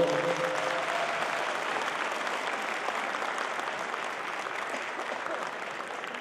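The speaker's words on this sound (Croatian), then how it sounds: "Još jedan veliki pljesak za naše goste iz Široke Kule." Warm applause from a folk festival audience welcoming guest performers from Široka Kula, a steady, full wash of clapping that carries evenly from start to finish.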